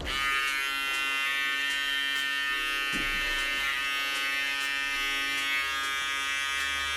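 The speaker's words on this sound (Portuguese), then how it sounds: "Agora sim, shaver no acabamento." An electric shaver buzzes steadily and close by for the full stretch while finishing a fade haircut on talc-dusted skin, with slight shifts in pitch as it moves over the hair.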